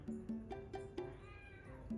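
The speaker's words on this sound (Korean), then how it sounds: "집에 고양이 너무 많다" A cat meows faintly, a drawn-out plaintive cry set against a soft, rhythmic pulsing tone in a quiet room.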